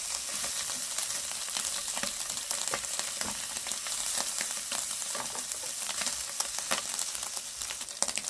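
Ingredients for kimbap frying in a pan, a dense continuous sizzle with scattered crackles and pops, close and steady for the whole stretch.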